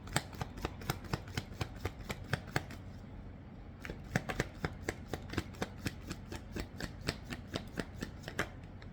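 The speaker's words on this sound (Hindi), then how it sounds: "पहले मैं सारे कार्ड्स निकाल लूँगी, फिर मैं रीडिंग स्टार्ट करूँगी" Tarot cards are shuffled and drawn in quick, crisp riffling flicks, a fast steady run of sharp snaps close up, briefly pausing before resuming.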